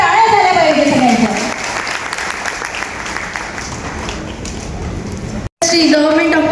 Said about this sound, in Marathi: जोरदार टाळ्या झाल्या पाहिजे सगळ्यांच्या